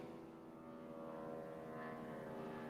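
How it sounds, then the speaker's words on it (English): A low-flying propeller plane, not a jet, drones overhead in a steady, faint, continuous hum with a slight rise partway through. "That sounds like a low plane,"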